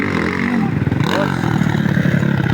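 A motorcycle engine revs loudly and close, its steady drone rising and falling with throttle blips and a scraping rattle, while people speak over it.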